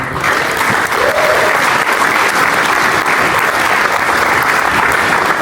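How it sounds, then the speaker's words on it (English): An audience applauding at a real estate talk: dense, loud, continuous clapping filling the whole stretch, with no voices over it. "Give yourself a round of applause,"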